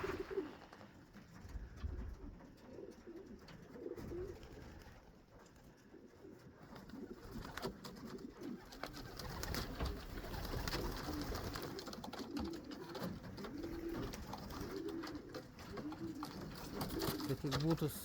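Racing pigeons coo repeatedly outside a loft in Lithuania, low rolling calls close by throughout, with someone talking over them at times.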